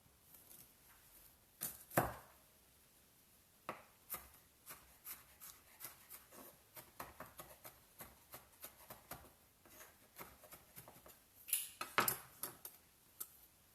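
A knife chops peeled fresh ginger on a cutting board, giving a run of sharp, irregular close taps with short pauses and a few louder knocks.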